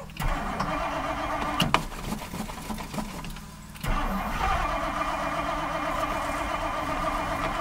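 A 1959 Mercury Monterey that sat unused for a decade cranks over steadily, a rhythmic starter churn that drops off briefly partway through before resuming, loud and close with no talk.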